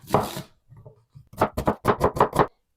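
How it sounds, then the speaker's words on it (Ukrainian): An onion is chopped into cubes with a knife on a board, one scraping stroke followed by a rapid run of about eight sharp, evenly spaced chops, close and clear with no talk. "І ну, цибулю кубиком"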